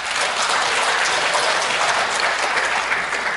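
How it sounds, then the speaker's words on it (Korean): Warm applause from an audience in a civil defense education hall in Sagok-dong, Gumi, for the chairman at a supporters' launch ceremony; loud, dense, continuous clapping close to the microphone with no talk. "우리 황영 회장님께 뜨거운 박수 한번 쳐주시죠."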